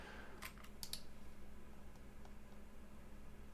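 Computer keyboard keys pressed at a desk during Godot game development: a quick cluster of a few close, crisp clicks near the start, then faint scattered ticks over a low steady hum.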